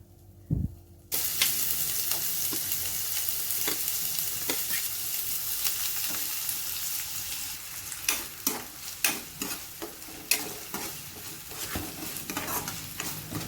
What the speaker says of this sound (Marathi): ते चांगलं फ्राय झाल्याच्या नंतर आता आपल्याला कांदा टाकायचा आहे.